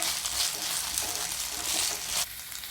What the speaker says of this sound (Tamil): நல்லா வதக்கி விடுங்க. கொஞ்சம் நல்லா பொரிஞ்ச மாதிரி வரட்டும்.